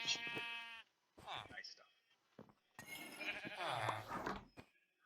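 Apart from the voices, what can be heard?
sheep bleating in Minecraft video game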